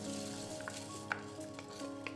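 Salt and lentils are stirred into liquid in an Instant Pot, a soft, steady sizzle and bubbling with a few faint spoon taps against the inner pot, heard quietly and alone.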